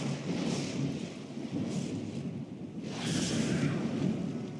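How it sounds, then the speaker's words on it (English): Thunderstorm at sea with sustained rumbling thunder and heavy rain, a loud continuous roar swelling in two bursts, no voices. "They sailed north across the waking sea, lashed by terrible storms."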